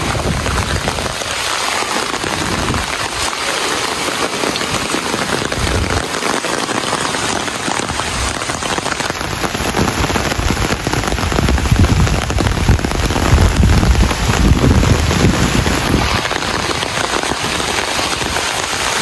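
Heavy rain pours down during a typhoon in a loud, continuous hiss and patter, steady and dense for the whole stretch, with occasional gusty surges.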